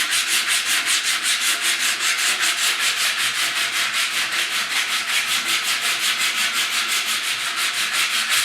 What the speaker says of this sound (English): It doesn't take very long, this stuff sands pretty good.